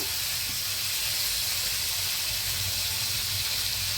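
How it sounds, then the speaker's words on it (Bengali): Carrots frying in a little oil in a covered pan, a steady close hiss and sizzle that holds evenly throughout with no pauses. "এই অল্প তেলেই এটা ভেজে নেব"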